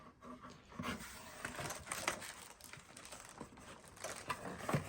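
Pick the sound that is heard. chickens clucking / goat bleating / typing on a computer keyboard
typing on a computer keyboard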